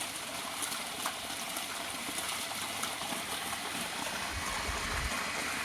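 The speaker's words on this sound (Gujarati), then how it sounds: "હવે આ બાજુ પાણી ચાલુ કર્યું છે. કેવો સરસ પાણીનો દદડો પડે." Water from a turned-on tap pours in a steady, broad rushing stream, constant and fairly close throughout, with no voices.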